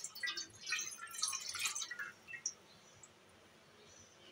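Strained tamarind chutney poured into a pan, giving a soft trickling, dripping liquid sound for the first two seconds or so before it fades to near quiet.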